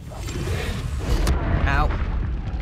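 A Confringo fire spell explodes in Hogwarts Legacy with a short, heavy boom and rumbling blast, set against ongoing game noise, with a voice talking over it.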